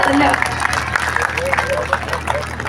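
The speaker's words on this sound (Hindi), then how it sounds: "एक बार जोरदार तालियां इस बच्ची के लिए।" Audience applause and crowd noise for a young girl after her patriotic song honouring martyrs, a steady broadband wash with voices mixed in throughout.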